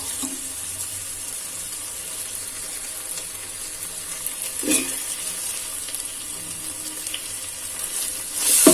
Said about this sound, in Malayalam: ഇനി നമുക്ക് ഇതിലോട്ട് തക്കാളി ചേർത്ത് കൊടുക്കാം